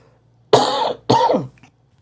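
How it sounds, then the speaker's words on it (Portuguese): Two loud, harsh coughs in quick succession from a man with the flu, close to the listener, in an otherwise quiet room. "Desculpa a tosse, ainda tô gripado."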